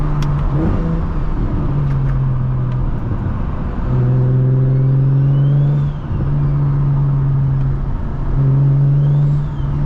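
A BMW 335i engine revs up in repeated pulls, each climb cut off by a brief dip as gears shift, loud and close from inside the car, with a steady drone between shifts.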